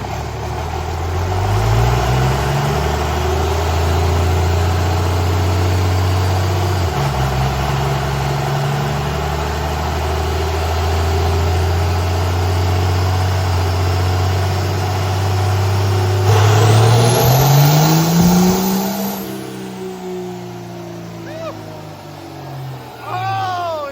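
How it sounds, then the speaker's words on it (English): Diesel engine loaded on a chassis dyno, revving up steadily as the torque converter locks, with a loud continuous drone that rises in pitch near the end as boost builds and then falls away. "These diesels like to be loaded on the dyno so Oh, they yeah. get boost. Once that lockup kicks in,"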